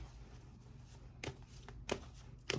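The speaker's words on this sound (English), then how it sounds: "Let me shuffle up these cards." Tarot cards being shuffled, a few short papery riffles at irregular intervals over a soft background, close and fairly quiet, with no talking.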